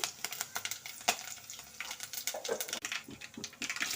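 Mustard seeds, cumin and curry leaves sizzle in hot oil, crackling and popping in quick irregular bursts that stay faint throughout.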